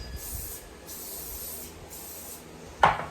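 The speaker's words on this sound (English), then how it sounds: "we're gonna grease this down with cooking spray" Three hissing bursts of cooking spray greasing a Thermomix steaming tray for banana muffins, each lasting about half a second, followed by a short clatter near the end.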